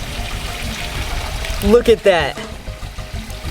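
Water scooped by hand splashes and trickles back into a koi pond in a couple of short, close pours, with someone talking just before and after.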